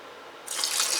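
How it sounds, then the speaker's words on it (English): Water poured or running into a container from a tap during cleaning with SuperClean cleaner; quiet hiss at first, then a bright splashing stream starts about halfway and continues steadily, close and fairly loud, no talking. "Just take a little bit of SuperClean, and I'm just going to put a drop,"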